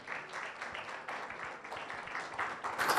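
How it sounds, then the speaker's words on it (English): An audience applauds to welcome a speaker at an agriculture stakeholder forum, with steady, dense clapping throughout that swells slightly louder toward the end. "A big round of applause for her."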